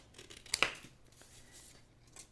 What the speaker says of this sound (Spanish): Y lo vamos cortando.